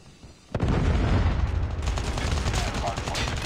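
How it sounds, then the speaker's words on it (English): A Call of Duty Mobile match: a predator missile strike hits suddenly and loudly, then continuous gunfire and explosions rumble on, close and dense, with faint game voice lines underneath. "Predator missile inbound."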